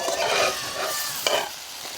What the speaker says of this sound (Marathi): आता असं सगळं मिक्स करून घ्यायचं